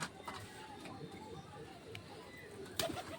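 Pet pigeons coo softly in a room, low faint murmuring calls under a quiet background hiss, with a brief louder flutter or knock near the end.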